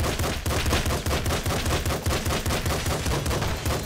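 Rapid, continuous gunfire from the top-down shooter game Nuclear Throne, a dense chattering burst of shots with crunchy impacts, loud and steady throughout with no talk.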